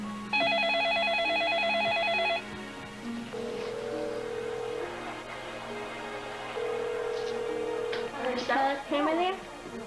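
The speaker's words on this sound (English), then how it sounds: "10-year-old Melissa went to call on the portable phone." A portable home telephone gives a run of rapid dialing tones, then longer steady beeps with a hum underneath, followed by rustling handling noise near the end.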